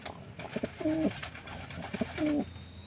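A thin racing pigeon coos just after returning home from a week lost, two soft low coo phrases close by over faint background noise.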